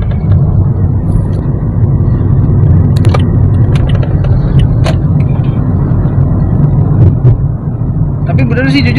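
A Toyota Vios Joker G 1.5 CVT from 2019 rolls over a speed bump, with a low steady cabin and road rumble broken by a few short knocks and rattles.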